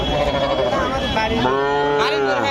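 A calf moos at a rural cattle market in Bangladesh, several loud drawn-out bellows up close, with crowd chatter and voices mixed in behind.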